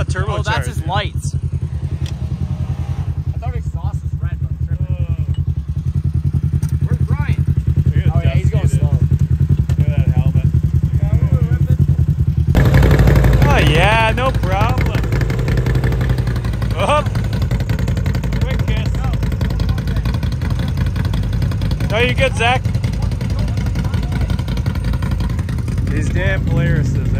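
A turbocharged Polaris off-road vehicle idles loudly and steadily nearby on a muddy 4x4 trail, its engine rumble continuous throughout while people talk over it.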